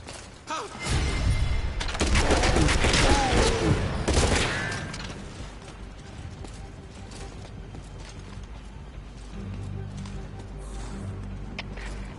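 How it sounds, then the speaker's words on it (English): A brief burst of rapid, loud gunfire with heavy impacts in Metal Gear Solid V: The Phantom Pain, followed by quieter mechanical clanks and a low steady hum. "Heard gunfire."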